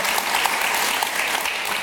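Loud, dense studio audience applause on a Turkish television panel show comes as a brief, unbroken burst of many hands clapping close by.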